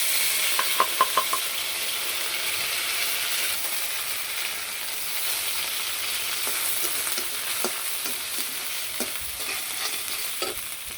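Spices, cumin, ginger and mixed small fish fry in a pan, a steady loud sizzle with a few quick utensil knocks at the start and scattered stirring scrapes later on.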